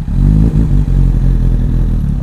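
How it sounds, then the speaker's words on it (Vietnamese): A Honda CB1000 motorcycle engine idles and revs loudly up close, a low rumbling throb with clattering mechanical texture, steady throughout with no voices. "Ok, cho mọi người nghe tiếng máy cái nha."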